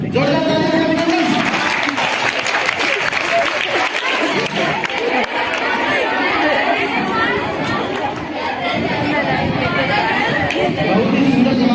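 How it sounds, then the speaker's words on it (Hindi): An audience at a school general-knowledge quiz applauds a student's correct answer, with loud, sustained clapping mixed with crowd chatter filling the hall throughout. "जोरदार तालियां से अभिनंदन"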